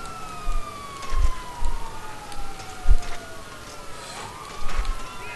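Police car sirens in the video game GTA 5, several overlapping wails sweeping up and down continuously, with intermittent thumps and bumps beneath them.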